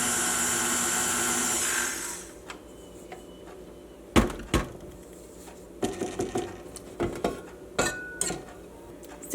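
Electric kitchen mixer with a whisk attachment blending homemade pancake and waffle pantry mix, a steady motor whir for about two seconds, then silence broken by a series of sharp clinks and taps as it is handled.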